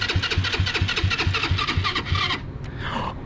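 A GY6 scooter engine cranks on its electric starter button in a fast, even chugging rhythm for about two seconds, then catches briefly and sputters, heard close and alone.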